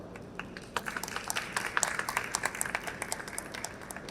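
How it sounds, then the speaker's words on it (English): Audience at a COMEX Bahrain 2023 tech entrepreneurship talk applauds SME Development Oman and supporting organizations: a steady patter of many hands clapping at moderate loudness, with a few sharper claps standing out. "Please can we show you our appreciation and give them and the supportive organizations a round of applause"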